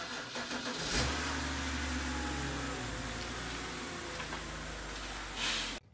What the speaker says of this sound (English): so we have to move the car